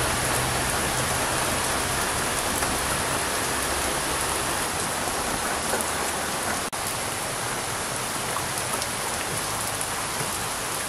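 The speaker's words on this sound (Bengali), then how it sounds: "আজকে দেখে মনে হচ্ছে যেন বর্ষা নেমে গেছে, বর্ষা নামছে" Steady monsoon rain pours down in a dense, unbroken hiss on a rainy day by a riverside village kitchen, close and loud throughout with no voices.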